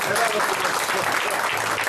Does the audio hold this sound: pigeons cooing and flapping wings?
no